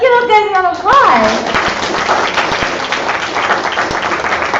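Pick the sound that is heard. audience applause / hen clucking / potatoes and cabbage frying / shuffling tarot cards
audience applause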